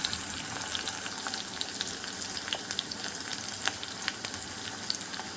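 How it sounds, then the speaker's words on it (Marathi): Cumin, mustard seeds, chopped onion and garlic fry in hot oil for a bitter gourd dish, producing a quiet continuous sizzle with frequent small crackles and pops, close up and without talk. "छान आपल्याला तेलात होऊ द्यायचं आहे जोपर्यंत कांदा लालसर होत नाही"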